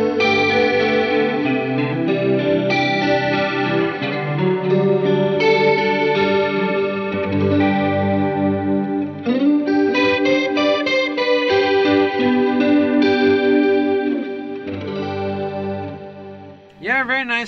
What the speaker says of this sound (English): Very nice chorusy sound